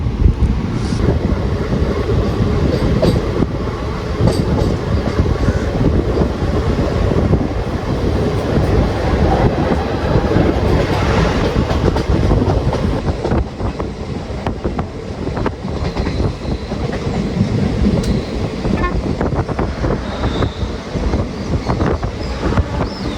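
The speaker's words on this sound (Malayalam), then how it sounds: "നമ്മൾ കണ്ണൂർ റെയിൽവേ സ്റ്റേഷനിൽ എത്തിയിട്ട് ഇപ്പോൾ ഡിപ്പാർട്ടായി." A train pulls out of Kannur railway station in Kerala with a loud, steady rumble of wheels and carriages, while wind buffets the microphone throughout. No one speaks.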